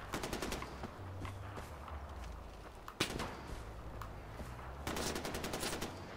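Bursts of rapid automatic gunfire from the video game Far Cry 4 come in fast rattling volleys near the start and again near the end, with a few sharp single shots, all moderately faint.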